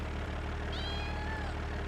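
A cat in the Cattle and Crops farming video game gives a single clear meow partway through, heard over a steady low engine-like hum.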